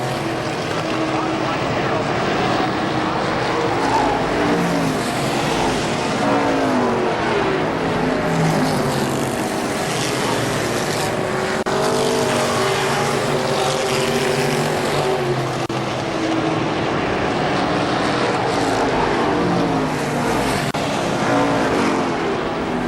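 Race cars roaring around a dirt speedway at KilKare Speedway, a continuous loud engine drone that swells as cars run side by side down the front stretch, with a track announcer talking over it throughout.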